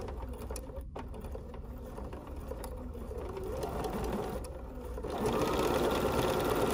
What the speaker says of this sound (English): This should sew right through this material.